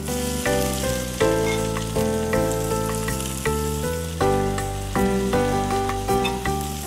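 Finely chopped saag fries in a hot pan and is stirred, giving a continuous sizzling hiss under prominent melodic background music, fairly loud throughout.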